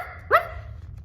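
A single short dog bark rings out clearly, a sharp yap at moderate distance over a low background hum.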